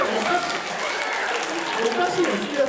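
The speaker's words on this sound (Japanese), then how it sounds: "おかしいよ、好きな食べ物を言っただけで拍手は" Applause and excited cheering from an audience of junior high and high school girls, a steady dense patter with some shrill vocal bursts mixed in across the whole stretch.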